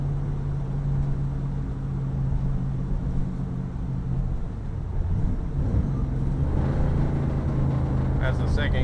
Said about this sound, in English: That's the second gear downshift. You don't have to hit the brake as hard. The motor slows you down.